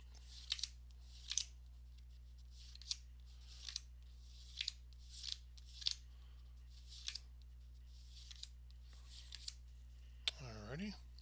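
Scissors snip through basketball game cards in a series of about a dozen short, crisp cuts spaced at irregular intervals over a steady low electrical hum, with a brief voice near the end.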